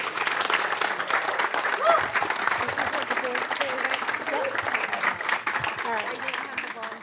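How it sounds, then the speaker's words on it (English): Sustained audience applause at an evening service-celebration ceremony, many hands clapping loudly and steadily with cheering voices and murmured chatter mixed into the crowd noise throughout. "So a round of applause."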